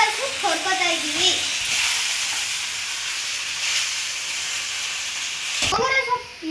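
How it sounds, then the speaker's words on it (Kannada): Gongura leaves fry in a pan, a bright steady sizzle under brief talk at the start and end, with a few clicks of stirring. "ಇಲ್ಲಿ ಗೋಂಗೂರ ಸೊಪ್ಪು ಹೊರ್ಕೋತಾ ಇದ್ದೀವಿ."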